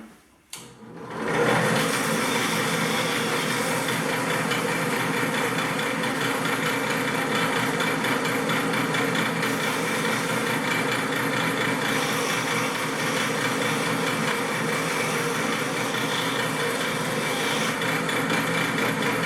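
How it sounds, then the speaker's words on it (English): A power sander grinds the edges of a kydex knife sheath for a Mora Pro Robust, starting after a brief pause and then running as a loud, steady, unbroken whine close by, with no talk. "Sanding off as much as you need and then seeing if the blade fits"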